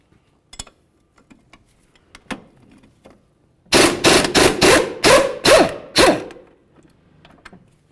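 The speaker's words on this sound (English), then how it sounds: "We'll hold the bolt side with our 19mm wrench and remove the nut on the forward side." A 19mm wrench works a nut off a steering knuckle bolt on a 2012-2016 Subaru Impreza, with scattered light metal ticks, then a run of six or seven sharp, close ratcheting bursts in quick rhythm before fading to small taps.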